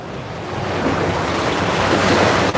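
Ocean waves surge and wash loudly onto a Hawaii beach, a steady roaring rush of surf with strong wind noise on the microphone and no pause in the noise.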